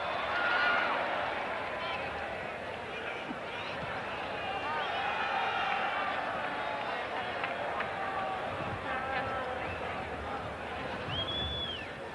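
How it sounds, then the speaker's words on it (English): Stadium crowd at a 1986 World Cup football match between Poland and Morocco in Mexico, a steady far-off roar of cheering for Morocco that runs the whole time beneath continuous commentary. "The crowd getting behind Morocco again."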